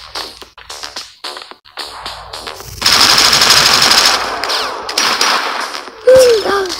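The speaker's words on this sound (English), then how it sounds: "Some machine guns" Machine gun fire in the mobile shooter Johnny Trigger 9, a loud rapid burst of automatic shots following several single gunshots, ending with a brief rising electronic tone.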